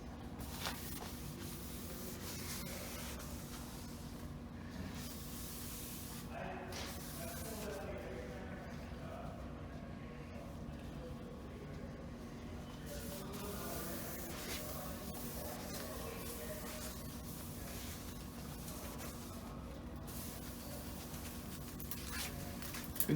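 Surface plate cleaner is sprayed onto a granite surface plate and wiped with a cloth, producing soft hissing bursts and rubbing strokes beneath someone talking throughout.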